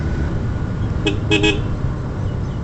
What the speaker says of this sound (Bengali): ওভারটেকিং করার সময় এইভাবে 2টা একটা হর্ন দিয়ে বুঝাই দিয়েন